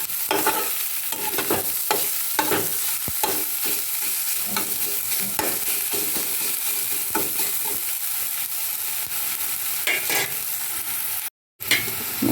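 Crushed ginger and garlic frying and being stirred in a pan while preparing an aloo matar capsicum fish curry, with a steady close sizzle and repeated scraping stir strokes, no talking.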